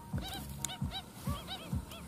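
Lesser whistling ducks (blibis) call from a large hidden flock, with repeated honking notes at a steady, roughly half-second rhythm layered over thin whistles and a constant background of many birds.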